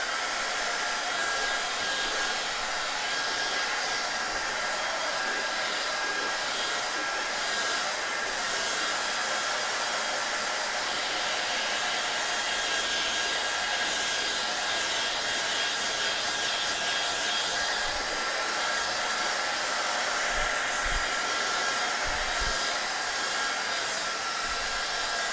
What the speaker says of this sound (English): I'm just going to dry that off.